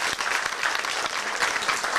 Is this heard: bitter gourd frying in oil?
no